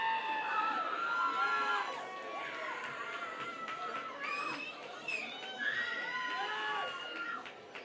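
Football stadium crowd during an Okanagan Sun versus Prince George Kodiaks game, cheering and whooping after an interception, with scattered shouts and a commentator talking over the steady roar.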